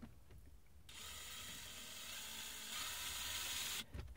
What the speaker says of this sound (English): Maybe I'll proceed to immediately screw it in so that it doesn't fall out on me.